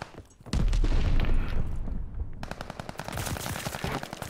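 A heavy explosive burst gives way to sustained rapid automatic gunfire in a Call of Duty Champion Hill match, loud and close, the rattling shots repeating in an even rhythm.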